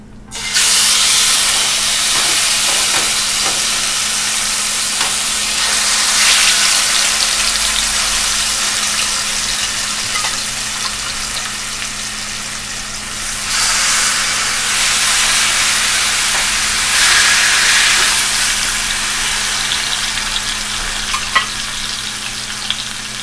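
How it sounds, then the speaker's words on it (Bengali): Chicken pieces hitting hot oil in a pan for chicken korma sizzle loudly and steadily, with a broad frying hiss that swells and eases over about twenty seconds alongside occasional stirring. "এখন আমি মাংসটা দিয়ে দিচ্ছি।"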